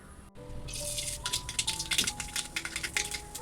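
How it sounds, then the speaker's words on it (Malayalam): Mustard seeds splutter in hot coconut oil while a Kerala-style koorka stir-fry is being tempered: a dense run of sharp, close pops and crackles, building quickly and continuing steadily with no voices. "അപ്പോൾ കടുക് പൊട്ടിയിട്ടുണ്ട്"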